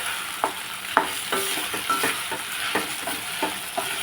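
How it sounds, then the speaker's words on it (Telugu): Raw mango pieces frying together with a potato curry in a pan, a low steady sizzle with irregular scrapes and knocks of a spoon stirring, close up and without speech. "ఇందులో ఇవి కూడా మామిడికాయ ముక్కలు కూడా వేసేస్తున్నాం"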